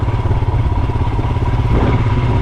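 A Himalayan 411 motorcycle engine idles and chugs steadily on a wet trail, a loud, close, continuous low thrum with a slight rise in revs partway through and no talk over it.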